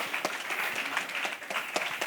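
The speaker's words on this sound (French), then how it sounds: "un peu d'applaudissements pour ces gens-là s'il vous plaît" Audience clapping at a French studio debate show, a steady wash of applause with scattered sharper claps, moderately loud and continuous throughout with no voices on top.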